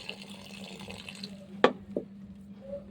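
Water poured little by little into potted plants at home, a soft, faint trickle with a brief sharp clunk and a smaller knock near the end, no one speaking.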